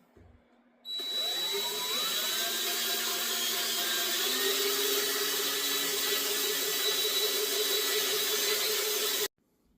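A power tool spins up with a rising whine and runs steadily for about eight seconds while lapping metal with lapping compound, a loud continuous buzzing drone that stops abruptly, with no talk.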